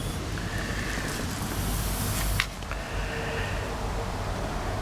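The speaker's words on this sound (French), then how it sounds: "Il y a un peu de vent aujourd'hui, hein, vous entendez un petit peu." Steady wind rumbles and hisses across the microphone throughout, a constant breathy roar with no voices, outdoors beside a Bogist C1 Pro electric scooter.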